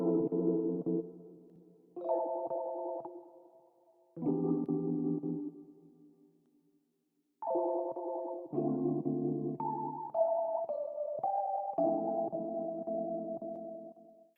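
Chopped R&B sample phrases run through Hardcore Flanger, Lux Verb reverb and EQ, playing as several short melodic chops with brief gaps and reverb tails, then a sustained run of stacked chords, loud and alone with no talking.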